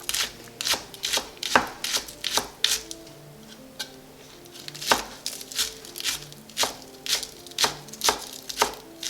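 Scallions being chopped with a knife on a cutting board, a steady run of sharp, close knife strikes in an even rhythm with brief pauses, alone without talk.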